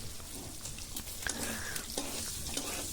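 Pork fat renders in a hot pan, a steady close sizzle and crackle of frying with a few louder pops and stirring scrapes, no talking.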